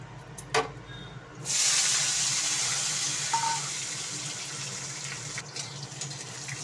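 Potatoes going into hot oil with spices for frying, a sudden loud sizzling hiss that stays steady and strong, with a few light clinks near the start.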